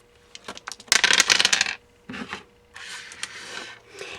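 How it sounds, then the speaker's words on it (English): Dice are rolled for a card-making game, a quick rattling tumble with a dense burst of clicks and clatter, followed by a few shorter rolling bursts, close and fairly loud. "let's roll the dice for our base color"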